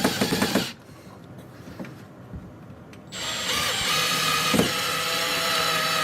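An angle driver drives screws in a woodworking job, its motor buzzing in short bursts then a sustained whirring run, close up with no talking.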